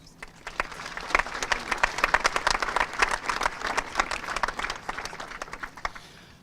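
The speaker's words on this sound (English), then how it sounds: "deserves a thank you and a round of applause as well" A graduation audience at a high school ceremony applauds with a dense, steady round of clapping that builds quickly, holds, and fades near the end, with no talk.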